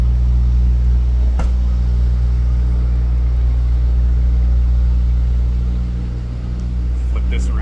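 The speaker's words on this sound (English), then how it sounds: "You got a truck beside me running on both sides" Diesel trucks idling close by on both sides, a steady loud low rumble with a brief knock partway through, while someone talks over it.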